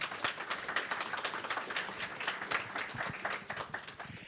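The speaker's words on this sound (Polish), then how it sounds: "Wielkie brawa" An audience applauds a guest author at a literary evening, a dense, steady wash of many hands clapping that holds evenly throughout.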